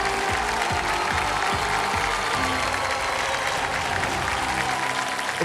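Studio audience applauding on the Kaun Banega Crorepati set, steady dense clapping filling the room throughout without a break.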